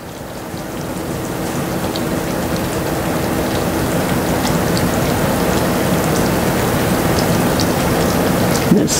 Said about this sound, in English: I can tell by my syrup the sound of it and the looks of it. It's real, real bubbly.